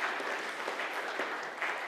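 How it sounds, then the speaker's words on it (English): Applause from a keynote audience at a market intelligence summit, a dense, steady patter of clapping sustained throughout the short stretch at moderate level. "I want to clap to our customers."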